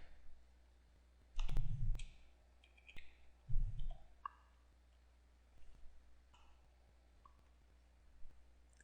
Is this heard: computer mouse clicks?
yes